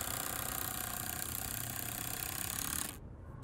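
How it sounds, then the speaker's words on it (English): A power driver running screws into outdoor ice rink boards, a close, loud steady whirring grind that stops abruptly near the end. "So here's Julia putting in the screws."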